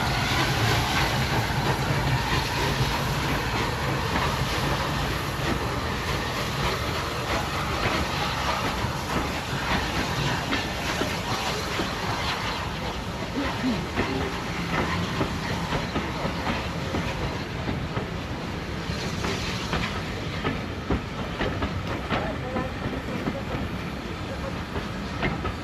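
Heritage locomotive No. 35006, a massive, powerful engine, runs on the Gloucestershire Warwickshire Railway during a steam festival. A loud, steady rumble and rolling clatter carries through the whole stretch without a break.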